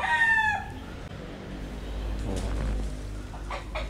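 A sweater gamefowl rooster crows loudly and close at the start, then its call fades into low background rumble, with a few fainter calls and clucks later on.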